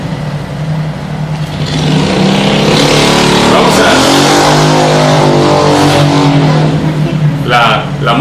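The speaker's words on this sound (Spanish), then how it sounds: "La moto está un poco dañada, ¿verdad? Y se oye bien fuerte." A loud, damaged motorcycle engine runs steadily and roars up in volume, close by, with a voice briefly speaking over it.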